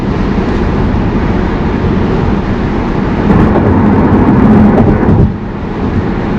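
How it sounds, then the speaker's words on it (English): A Tesla Model Y cruises on a highway, giving a steady, fairly loud rumble of road and wind noise that swells briefly midway before settling back. "All right, now we are driving on the highway."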